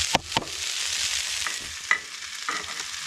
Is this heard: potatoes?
yes